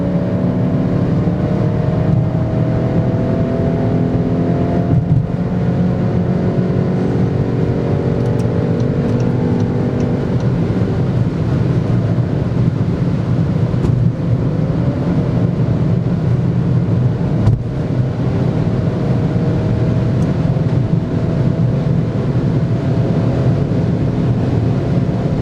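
Skoda Octavia RS Combi with a 245-horsepower engine pulling hard at high speed on a German Autobahn, a steady loud drone of engine, road and wind noise with rising gear tones, continuous throughout.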